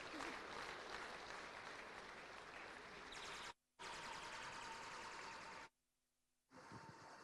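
A gala-night audience claps for Dr. Lina Eze, a steady wash of many hands applauding at moderate distance, cut off abruptly by two short silent gaps before resuming.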